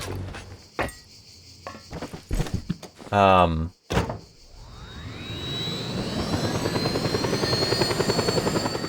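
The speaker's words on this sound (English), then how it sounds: "looks like I'll be taking the helicopter because I don't see a plane" In Just Cause 2, a helicopter starts up after some clunks and a door-like thud, its engine whine climbing and rotor chop building into a steady, loud pulsing thrum that fills the second half.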